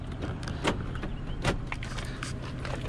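Power door locks on a 2005 Lexus RX 330 actuate inside the cabin: two short, close thunks about a second apart over a low, steady background hum.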